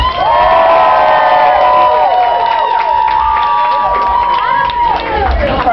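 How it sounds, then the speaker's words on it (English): A loud crowd at a costume contest cheers, whoops and shouts continuously, with children's voices prominent and some applause underneath, sustained at full level for the whole stretch. "give all of our contestants a big round of applause"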